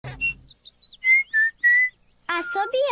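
Cartoon pig character's whistling from a children's animated show, a series of short bright sliding whistle notes and steadier tones, with a brief voice at the start and a character speaking at the end.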